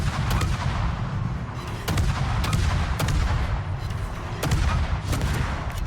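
Destroyer guns firing shells in the naval video game World of Warships, a series of sharp booming shots at irregular intervals over a dense rumbling battle backdrop, loud and without speech.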